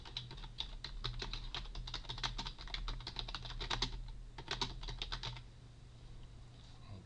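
Rapid keyboard typing while text is entered into a Moodle course page, a steady burst of close clicks for about five seconds that then stops, over a low electrical hum.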